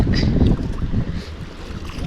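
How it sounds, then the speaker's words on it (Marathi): Steady engine drone and water rush from a boat moving across the sea, loudest in the first half second, then continuing at a constant level with wind buffeting. "होडी चालवतोय"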